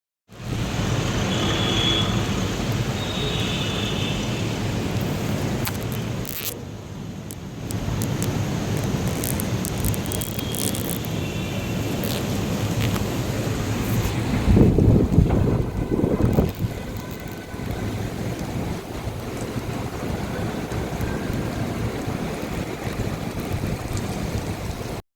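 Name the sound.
heavy rain falling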